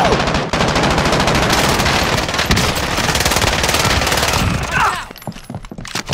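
Heavy gunfire from Call of Duty: Modern Warfare roars in a dense, continuous automatic barrage, loud and close, before cutting off abruptly to a few scattered sounds.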